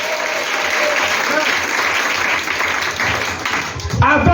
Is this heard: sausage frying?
no